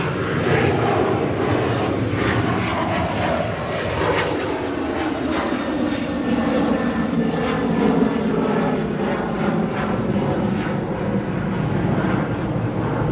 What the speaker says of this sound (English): 737-800 arriving from Panama City, departed at 8:21 a.m. Panama City time